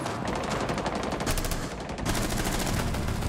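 Rapid bursts of gunfire from a first-person shooter video game as rounds are shot through a wall, dense and continuous throughout, with a brief lull in the middle before the shooting resumes louder.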